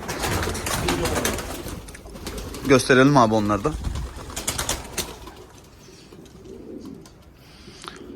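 Spanish homing pigeons coo and rustle inside a loft, a burst of rolling coos standing out among scattered wing flutters and shuffling, while someone speaks briefly nearby.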